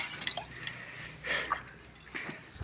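Water drips and splashes in small wet bursts during a bath, a few soft trickles and plops close by at low volume with quiet pauses between them.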